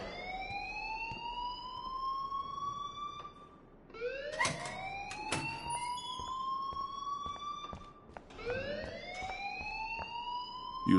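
Fire alarm in the video game Life is Strange: a repeating rising electronic wail sounds in about three long cycles, steady and prominent with no talk.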